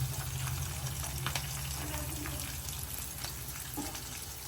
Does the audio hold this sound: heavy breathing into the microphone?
no